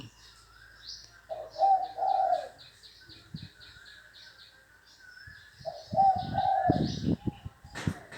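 A trained decoy dove coos repeatedly in low, rounded phrases, with chirping birds twittering steadily in the background.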